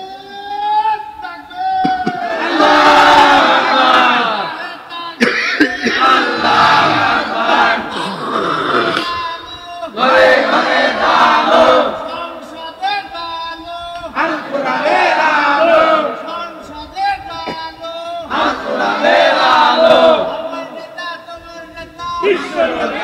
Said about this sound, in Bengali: ভালো করে তাকবীর দাও তো দেখি